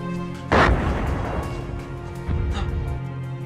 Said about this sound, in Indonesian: Sampai pada akhirnya bom itu meledak hingga terdengar oleh Burnett.